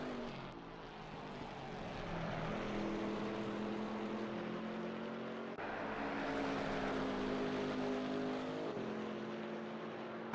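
Two V8 race car engines, a McLaren and a Chevrolet, in a GT4 racing game, roar steadily with rising and falling pitch as they pass and shift, loud and continuous with no voices.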